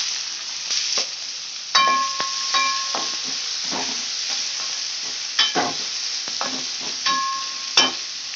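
Sliced onions dropped into hot oil with fennel, cinnamon and cloves for a Tamil egg gravy, frying with a soft hiss while a metal spoon clanks and scrapes the pan in irregular bursts, close up, no voices.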